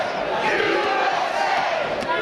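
Wrestling arena crowd at an independent show roars and chants in a sustained, dense wash of voices, loud and continuous throughout with no single speaker standing out.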